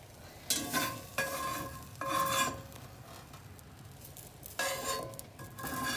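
A utensil scrapes up roasted bits stuck to a pan while making fire-roasted salsa, giving several close, rasping strokes separated by short pauses.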